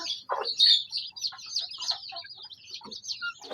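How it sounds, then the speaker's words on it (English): Chicks and a mother hen in a hatching cage: high, rapid peeping and chirping from several chicks, with occasional lower clucks, close by and continuous without speech. "These are the chicks which we actually had."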